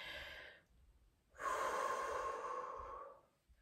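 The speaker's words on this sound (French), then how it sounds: "on vient respirer à nouveau du bedon" Deep belly breathing during an emotional regulation exercise: a slow, close exhale, a short pause, then a longer drawn-out airy breath that fades at the end.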